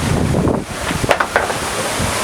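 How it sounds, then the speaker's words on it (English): Waves and wind at a seaside grotto with small caves roar continuously and loudly, with strong wind buffeting on the microphone and surf washing and splashing throughout. "It's probably really loud because of the waves and the wind"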